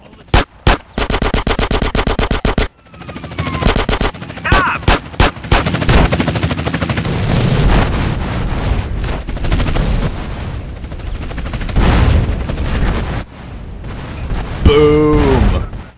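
Loud gunfire in GTA San Andreas: sharp single shots, then sustained machine-gun bursts and booming explosions, with brief game voices mixed in.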